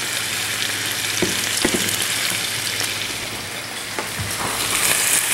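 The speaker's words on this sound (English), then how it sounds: "Alright, we're burning our onion and garlic." Onion and garlic frying hard in a pot, a loud steady sizzle and crackle with a few soft knocks from stirring, no voices.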